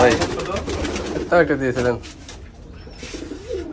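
Rajshahi Giribaj pigeons coo in repeated soft, throaty rolls close by, loudest in the first two seconds before fading to quieter calls.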